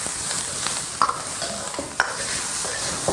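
Garlic cloves and pork intestines stir-fry in a wok on a small home stove, giving a steady bright sizzle with occasional scraping clinks of the spatula. There is no talking.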